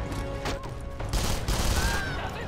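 Rapid bursts of gunfire ring out in James Cameron's Avatar: The Game, dense overlapping shots with booming low rumble, loud and continuous throughout.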